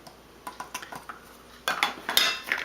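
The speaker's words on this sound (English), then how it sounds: "We'll take the cocoa and measure 3 tablespoons." A tablespoon scoops cocoa and taps against a pot, making a run of light metallic clinks followed by louder scraping and clattering of the spoon on the rim, close by.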